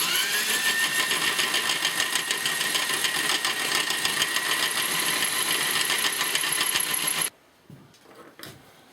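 A line boring machine cuts a metal bore surface with a steady, close mechanical whine and rapid chatter that runs continuously, then stops abruptly, leaving a few faint clicks and knocks.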